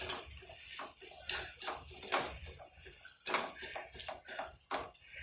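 Seasonings, including hot cayenne pepper, mixed in a cup with a utensil, giving a string of close, bright clinks and scrapes in uneven bursts across a few seconds.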